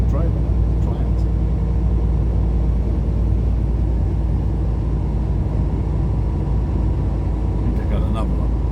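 A tri-axle truck passes on a highway between Marion, North Carolina and Crossville, Tennessee, giving a steady, loud, low road rumble and engine drone that holds throughout with no break.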